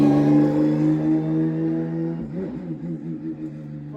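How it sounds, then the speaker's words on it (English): Porsche race cars at Watkins Glen during a GT4 test day, a loud engine drone holding steady and then wavering as revs rise and fall, near and continuous with no talk. "Porsches are loud."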